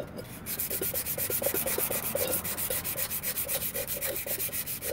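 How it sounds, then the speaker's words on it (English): Glazing is sanded off a brake pad by hand in quick, rhythmic back-and-forth strokes, a loud, close, coarse rasping that runs steadily with no talk. "Sand that down too."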